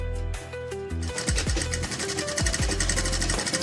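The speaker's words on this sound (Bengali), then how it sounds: "এইভাবে পরের পর সেলাই হয়ে যাবে।" A sewing machine runs a straight stitch with a steady, loud mechanical whir and rapid needle rhythm, with brief shifts in speed and tone throughout.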